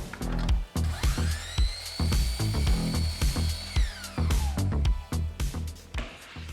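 A miter saw cuts short frame pieces of wood for a handrail, with several bursts of whining blade and cutting noise in close, loud succession and a sustained rising and falling saw tone across the middle.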